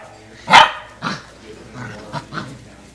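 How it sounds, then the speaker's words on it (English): Several sharp yips and barks from small, fierce puppies, one loud bark followed by a few quieter ones in quick, uneven succession. "Fierce little puppies."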